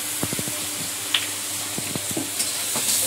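Ginger, garlic paste and chilli sizzle in hot oil while a utensil scrapes and stirs the pan in short, close clatters over a soft steady frying hiss.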